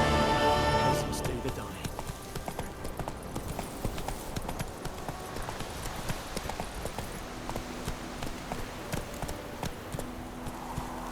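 Roach the horse gallops in The Witcher 3, hooves clip-clopping in a steady, rapid rhythm throughout, with voices talking over the hoofbeats.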